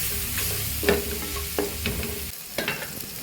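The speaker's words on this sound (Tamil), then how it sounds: "சேர்த்து இந்த எண்ணெயிலே நல்லா ஃப்ரை பண்ணிடுவோம்." Masala and fried brinjal stirred in hot oil while making kathrikai thokku, a steady low sizzle with a few clear scraping stir strokes against the pan, close up and with no talking.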